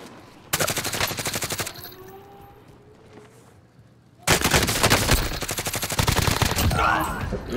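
Two long, loud bursts of rapid automatic gunfire in a video game, a steady rattling stream of shots separated by a quieter gap with faint background sounds.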